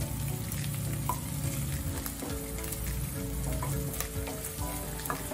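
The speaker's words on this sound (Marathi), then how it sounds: "आपल्याला आता कढीपत्ता टाकायचा। आपल्याला हे सगळे मसाले टाकून घ्यायचे एकदाच." Curry leaves, garlic paste and spices frying in a pan for Hyderabadi bagara baingan give a steady, close sizzle with occasional stirring scrapes running throughout, and no one speaks.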